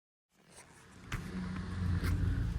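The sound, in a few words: Honda City driving on new low-noise tyres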